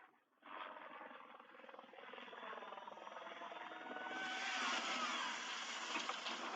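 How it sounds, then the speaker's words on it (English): A steady rotor and engine drone builds slightly louder and brighter toward the end, like a helicopter passing close, with no voices. "Helicopter."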